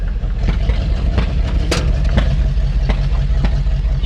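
A 1990 Ford F250 plow truck sits idling nearby, its engine a loud steady low rumble with a faint rhythmic pulse and occasional sharper ticks, no voices over it.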